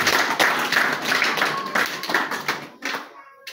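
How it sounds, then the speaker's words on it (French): Church congregation applauding at a pastor's request: a dense patter of many hands clapping, loud and close, thinning out toward the end. "je voudrais qu'on le félicite et qu'on applaudisse pour lui, pour la famille de l'enfant"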